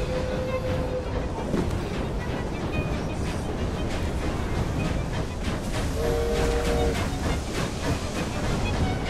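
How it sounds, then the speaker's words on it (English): A train rolling along in the game Assassin's Creed Syndicate, a dense, constant rumble and rattle of wheels and carriages with rushing wind, loud and unbroken, with brief whistle-like tones. "Oh, we're on the train."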